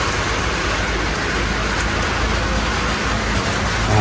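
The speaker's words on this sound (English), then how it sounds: "And it's raining." Steady, dense rain patters continuously on surfaces nearby in Cornwall, a constant hiss with no voices.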